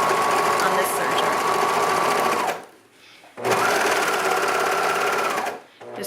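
A serger stitches knit fabric with a 3/8-inch stitch, a loud steady high-speed whir that runs for about two and a half seconds, pauses briefly, then starts again.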